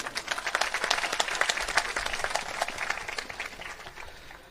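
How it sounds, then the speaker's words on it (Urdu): Conference audience applauding in a hall, a burst of many hands clapping with sharp individual claps that gradually thins and fades over a few seconds, no voices on top. "حوصلہ افزائی کریں تالیاں بجا کے"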